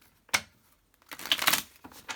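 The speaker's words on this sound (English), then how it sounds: "Let me just give it one good shuffle." A deck of tarot cards is shuffled close by: one sharp riffling snap, then a longer fluttering burst of cards and a final short flick.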